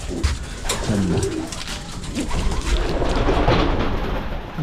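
Young pigeons kept by a fancier coo steadily in low, throaty rolling calls that carry on throughout, close by and fairly loud over faint background rumble.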